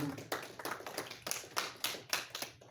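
A church congregation claps in praise, giving a short burst of rhythmic hand claps that come in loose, uneven beats, moderately close and without talk.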